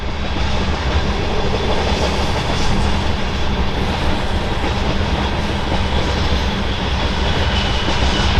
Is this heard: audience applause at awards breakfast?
no